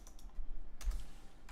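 Close, fairly quiet typing on a computer keyboard gives a few scattered keystrokes, then a quick burst of clicks near the end.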